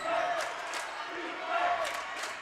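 A crowd cheers and roars at a girls high school basketball game at Eau Claire Memorial, a steady broad wash of voices in a gym, with a faint squeak of sneakers.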